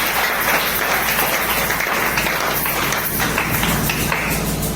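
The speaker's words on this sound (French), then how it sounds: "On acclame encore pour la parole de notre Dieu." A church congregation applauds during a Sunday thanksgiving service, with steady, dense clapping running throughout at an even loudness.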